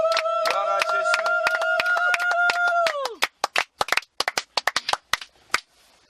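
Congregation at a French-language prayer service for couples claps sharply and irregularly after a sustained sung or shouted tone ends, with separate loud hand claps continuing alone.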